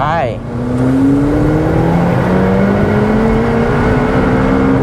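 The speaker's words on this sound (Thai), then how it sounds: "เมื่อสักครู่ที่เราเร่งมาเนี่ยความเร็วถึงประมาณตรงจุดเบรกเนี่ยประมาณ 200กิโลเมตรต่อชั่วโมง" A McLaren Elva hypercar in track mode accelerates hard, its engine note climbing steadily through the gears with a loud, continuous rising whine and roar close by.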